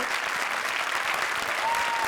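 A comedy show audience bursts into loud, sustained applause, many hands clapping together in a thick continuous roar.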